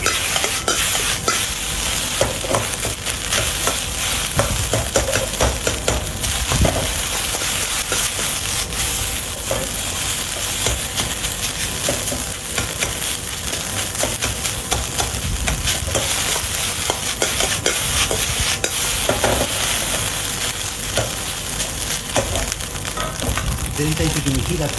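Ingredients stir-frying in a hot pan, a steady loud sizzle with continual scraping and stirring, plus occasional tossing clatters breaking through the even frying noise throughout.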